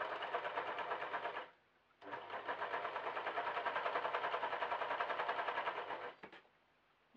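A serger sewing machine stitches the sleeves of a patterned stretch jersey cotton dress, running in a short burst, pausing briefly, then whirring steadily for about four seconds before stopping.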